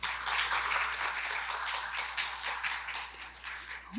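An audience at an autism festival claps after a lecture, a brief, fairly quiet burst of dense, overlapping applause that thins out toward the end.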